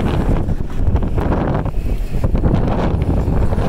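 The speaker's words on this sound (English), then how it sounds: "It's a little windy." Steady, loud wind buffets the microphone on a moving Case 4440 sprayer, a constant roaring rush with no voices.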